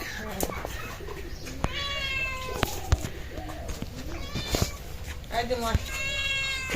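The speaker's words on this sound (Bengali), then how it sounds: "এই দেখেন বিড়াল যে দুধ প্রিয় ও দেখেন বিড়াল কেমন করতেছে" A cat meows repeatedly near a pot of fresh cow's milk in a village, its cries short and rising, with several loud calls over steady background noise; people talk nearby.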